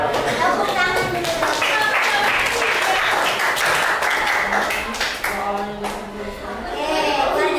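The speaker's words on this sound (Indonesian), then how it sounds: "Tepuk tangan dulu." A classroom group claps together in a dense, sustained round of applause lasting several seconds, close and moderately loud, with voices murmuring and talking underneath as it tapers off.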